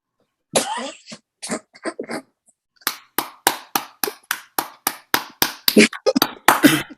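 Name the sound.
one person clapping hands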